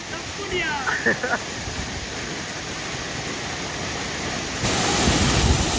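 Steady broadband rush of water at Meeyara Falls, a continuous roar that grows louder and fuller near the end, with brief indistinct voices early on.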